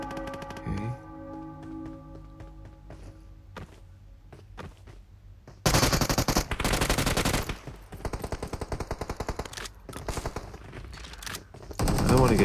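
Bursts of automatic gunfire from a battle-royale mobile shooter, PUBG Mobile (BGMI): sparse shots and thuds at first, then loud, dense rapid-fire volleys with short gaps between them, under quiet voices.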